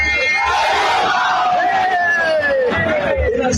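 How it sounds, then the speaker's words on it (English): Rally crowd chanting a presidential candidate's name at a political campaign event, a loud, dense mass of voices with rising yells and cheers sustained throughout. "some persons in the crowd were chanting Atiku instead"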